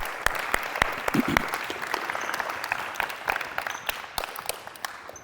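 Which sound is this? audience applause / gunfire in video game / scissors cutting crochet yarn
audience applause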